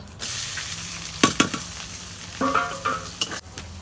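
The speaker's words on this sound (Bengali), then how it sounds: "পেঁয়াজ মরিচ এখন আমি ভাজা ভাজা করবো" Sliced onion and green chillies sizzle in hot oil in a pan for chowmein. A steady frying hiss is broken by a few sharp spatula knocks and scrapes.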